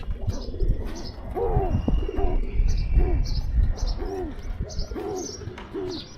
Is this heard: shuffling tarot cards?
no